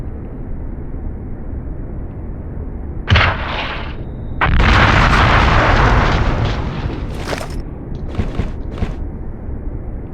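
Artillery fire and explosions in the video game Hidden & Dangerous: a sharp blast, then a long, loud rumbling explosion, followed by scattered bursts and booms over low ambient noise.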